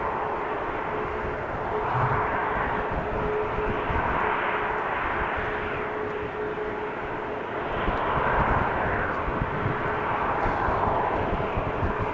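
Airliner engine roar at Amsterdam Schiphol Airport, a broad steady rumble holding at a constant loud level throughout, with a slight swell midway and again near the end, and no voices.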